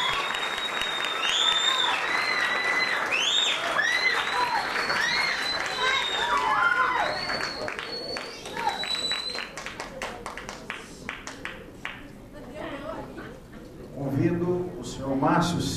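Applause fills a council chamber at a formal ceremony conferring honorary citizenship, mixed with cheers, whistles and lively crowd voices, then thinning toward the end as someone begins speaking.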